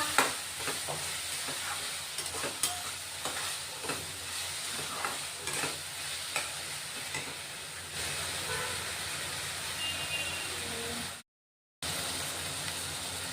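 Coarsely ground peanut powder being sautéed into an onion and green chili masala for spicy fenugreek leaf (methi) bhaji, a steady sizzle with repeated scraping stir strokes, close and continuous, briefly cutting out near the end.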